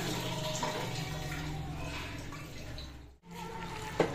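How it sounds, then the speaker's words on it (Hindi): Water poured into a cooking pot in a home kitchen, a steady continuous splashing pour that runs for about three seconds, breaks off briefly, then resumes more faintly, with no voices over it. "ये पानी डाल देती है"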